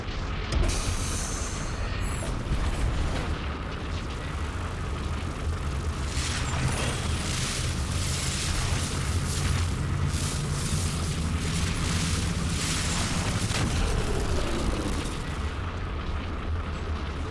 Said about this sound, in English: That core will explode.